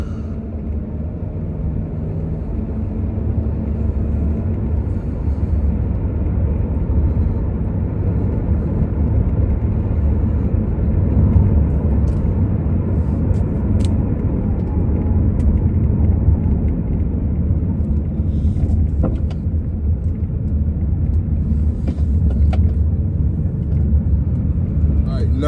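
A car engine is floored at full throttle from inside the cabin, a deep, steady, loud roar of engine and road rumble that holds for the whole stretch without a break.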